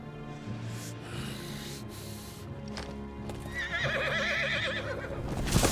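Horse neighing and clip-clopping hooves in the Final Fantasy XVI video game, a loud wavering whinny rising over steady hoofbeats and game music.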